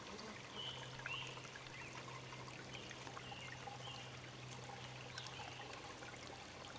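Water pumped into a water bladder: steady trickling and pouring with a low constant hum underneath, faint chirps scattered through, continuous with no talking.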